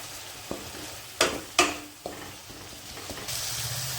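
Biryani spice paste fries in a kadai with a soft, close sizzle, broken by a few sharp scraping stirs of a spoon against the pan; no talk.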